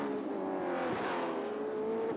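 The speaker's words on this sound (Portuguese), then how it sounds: "Vamos pela volta de aquecimento para os carros da Stock Pro Series." Stock Pro Series race cars drone along a track on a warm-up lap, a continuous engine roar holding steady and loud throughout.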